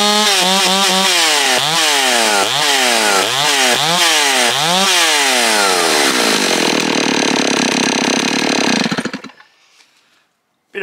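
An old STIHL 038 two-stroke chainsaw with a carburetor problem revs up and down repeatedly, then holds a loud, steady buzz while cutting wood, before cutting out and going quiet near the end.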